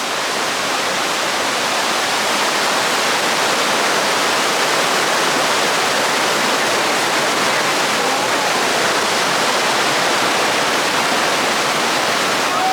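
Dunn's River Falls in Jamaica roars at its top, a loud, unbroken wash of falling water with no voices over it.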